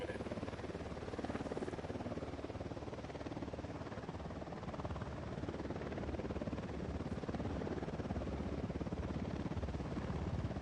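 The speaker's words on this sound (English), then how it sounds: "We got a chopper coming in." A helicopter approaches in the video game Ghost Recon, its steady whirring rotor drone filling the scene at a low, constant level without a clear rise or break.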